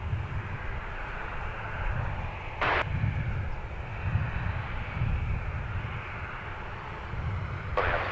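An Airbus A321neo airliner approaching to land at Minneapolis–St. Paul Airport gives a steady, distant engine roar that holds evenly throughout, with two brief clicks breaking in.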